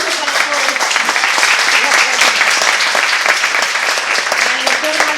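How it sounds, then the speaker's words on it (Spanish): A conference audience at a national meeting on animal rights and interspecies violence breaks into sustained applause, dense and loud throughout, with voices faintly mixed in. "el aplauso para todos"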